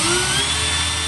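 Power drill whirring steadily as it bores handle holes, a loud, close, continuous high-pitched whine with no talking.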